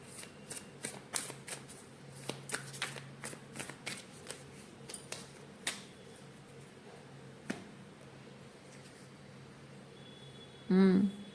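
Oracle cards shuffled by hand, a quiet close run of crisp riffling flicks and taps in an irregular rhythm, thinning out toward the end, with a brief voice at the close.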